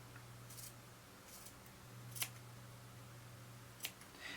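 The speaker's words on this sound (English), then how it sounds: "I'm going to just clip all the way up to my thread" Scissors snip fabric close to a sewing thread, two faint, sharp clips separated by quiet pauses over a low steady hum.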